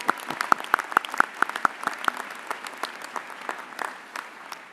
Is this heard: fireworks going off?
no